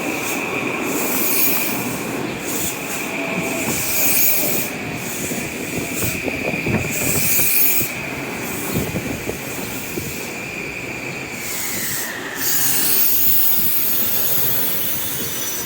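A commuter train to Grand Central pulls into Noroton Heights station on a summer evening, with a loud continuous rumble of railcars, a sustained high wheel squeal and rubbing grind throughout, no voices.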